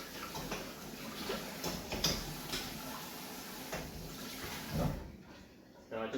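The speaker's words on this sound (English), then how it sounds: "colander, just going to rinse" Running water rinsing through a colander in a kitchen, a steady hiss and splash with some clattering, moderately quiet, breaking off near the end.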